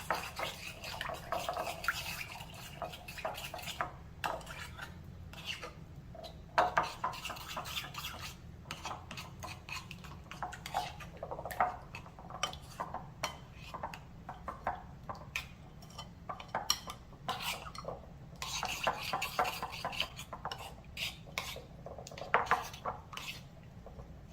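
Sauce ingredients for Azorean cod fish primavera being stirred and mixed in a pot, a continuous run of wet clinks, scrapes and sloshing at close range, steady and uneven in rhythm.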